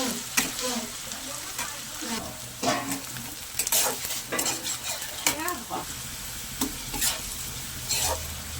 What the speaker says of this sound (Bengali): তো পেঁয়াজটাকে আমি লাল লাল করে ভেজে নিয়েছি